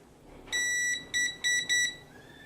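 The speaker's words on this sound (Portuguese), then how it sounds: "Bipou aqui com resistor, tá vendo?" A multimeter in continuity mode beeps while probing a resistor on a desktop motherboard under repair: one longer steady beep, then three shorter beeps in quick succession, close and clear against a quiet room.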